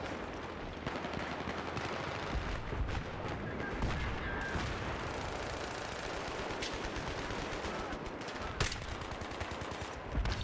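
Battlefield 3 gunfire, steady distant automatic bursts and scattered shots crackling through a busy battlefield, faint and continuous with a few sharper reports standing out, under occasional voice chatter.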